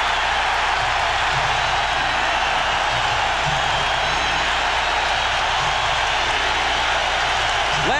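A packed basketball arena crowd at the 1998 NBA Finals, Game 3 between the Utah Jazz and Chicago Bulls, keeps up a loud, steady roar, a dense, unbroken wall of noise with no gaps.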